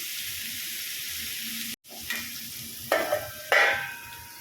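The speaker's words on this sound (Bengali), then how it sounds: "এবার এইভাবে নাড়াচাড়া করে করে ভেজে নিতে হবে" Chopped banana stem is stirred and fried in a pan with potatoes, salt and turmeric, a steady sizzle broken by a brief silence, then sharper bursts of scraping and spluttering as the spoon turns the food.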